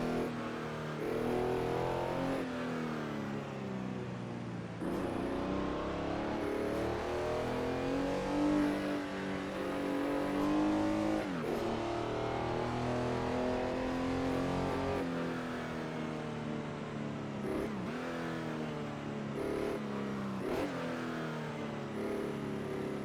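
Engine of a Porsche 911 in the Assetto Corsa racing game on the Sauerlandring 1968 track, rising and falling through moderate revs with gear changes, a steady continuous drone without talk.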